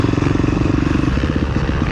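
A 2021 KTM 350 SX-F dirt bike with a Rekluse auto clutch idles in first gear, a close, loud, rapid pulsing engine thrum with a slight mechanical clatter and a brief dip in rhythm midway.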